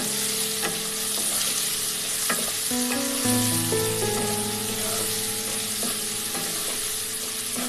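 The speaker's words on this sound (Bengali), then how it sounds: "নাড়াচাড়া করে নেবো আলুটা।" Potatoes for vegetarian ghugni fry in oil with a loud, even sizzle and occasional spoon scrapes and clicks as they are stirred, with a steady tonal hum running underneath.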